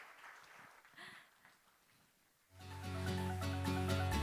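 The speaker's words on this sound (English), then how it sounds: "A round of applause once again for Ms. Jen Tan." Applause from a conference audience at a semiconductor summit rises after a quiet stretch with faint murmuring. It swells into dense, sustained clapping that fills the room and holds steady to the end.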